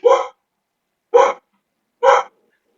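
Three loud, close dog barks, evenly spaced about a second apart, each a short sharp burst with silence between them.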